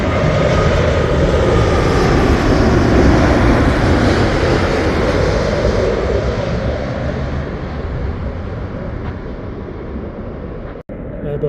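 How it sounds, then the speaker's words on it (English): A Virgin Atlantic Boeing 787 Dreamliner landing at Heathrow: a loud, steady, broad engine roar that holds for several seconds, then slowly fades and thins toward the end. "Boeing 787 Dreamliner,"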